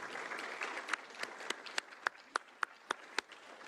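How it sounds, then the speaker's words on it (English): Applause from a small group at a civic education session, with a few distinct sharp claps in an even rhythm over a soft background of clapping. "let's give him an applause."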